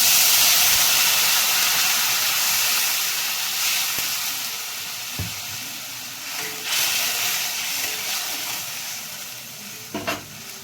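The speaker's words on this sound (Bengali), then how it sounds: "এবার আমি জল দিচ্ছি পরিমাণ মতো" Water goes into a hot pan of Bengali fish curry with radish and potato, setting off a loud hissing sizzle that slowly eases, with a few utensil knocks and scrapes near the end.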